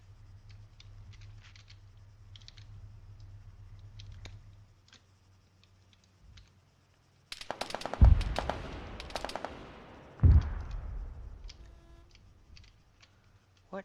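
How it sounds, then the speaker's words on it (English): Automatic weapon fire from a Hunter armored vehicle in the Arma 3 war game, a loud rapid burst around the middle and another sharp burst shortly after, standing out from a quiet low rumble. "That fire sounds like it's coming from a hunter."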